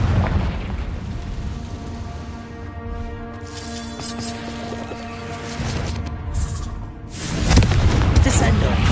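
Confringo explosive spell blasting in the Hogwarts Legacy video game, low rumbling booms under voices, building to a sharp, loud burst near the end.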